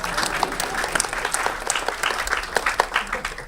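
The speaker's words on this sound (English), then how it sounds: "Let's all clap." An audience at a game design talk breaks into sustained applause, dense clapping from a crowd filling the room at steady volume.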